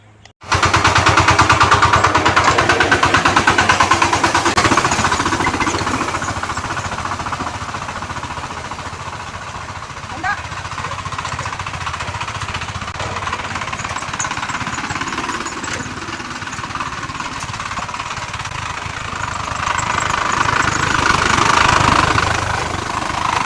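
A domestic water supply pump runs steadily and loudly throughout, a dense, constant mechanical drone with rapid knocking pulses, no voices over it.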